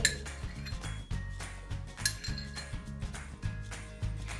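Repeated clinking of a spatula against a bowl while stirring plain natural yogurt into a chocolate mousse mixture, steady rhythmic scrapes and taps, close and fairly loud.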